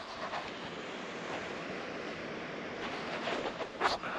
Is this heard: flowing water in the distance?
yes